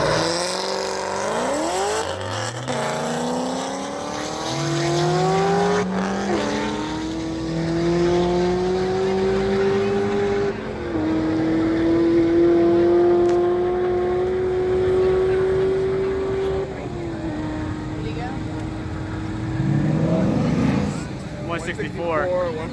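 An Audi and other cars accelerate hard through the gears in a half-mile shootout in Florida, loud engine roar climbing in pitch with upshifts, with people talking and shouting over it.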